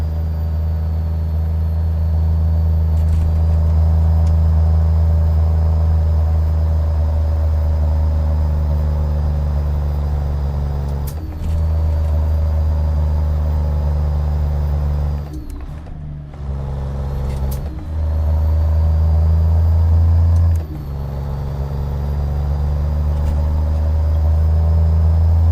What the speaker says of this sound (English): I like the engine sound though. Sounds really good.